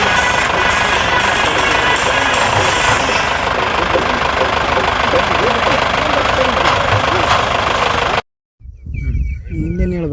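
A tractor engine idles loudly at an illegal river sand-mining site on the Katriki river in Manvi taluk, a steady knocking chug up close that cuts out abruptly near the end, followed by brief voice-like sounds.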